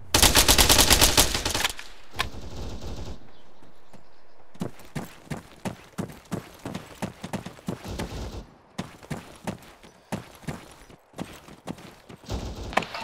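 Gunfire in the military shooter Arma 3: a loud dense burst opens, then a long run of sharp, irregular shots and short automatic volleys with no talk.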